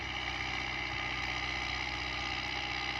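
A Dabang tractor engine idles in a steady, even mechanical drone with a constant vibrating rumble throughout, close and unbroken, with no one talking.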